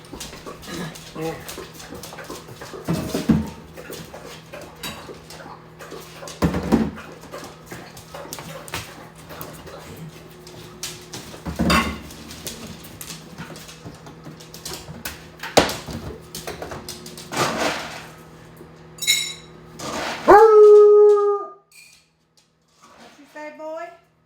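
A dog whines and whimpers on and off amid household clatter, ending in a rising, drawn-out howl-like cry before falling quiet.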